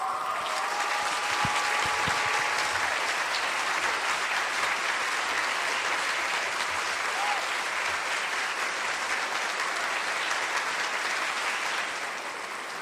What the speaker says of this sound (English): A round of applause for Dr. Charles Thomas Cayce